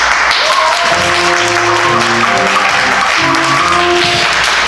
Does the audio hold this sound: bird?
no